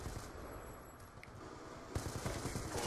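Rapid gunfire in a first-person shooter game, a steady rattling stream of quiet shots in the background throughout, growing somewhat denser and louder near the end.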